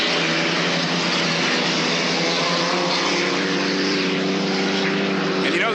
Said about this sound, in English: This is the sound of the hydros back in the day.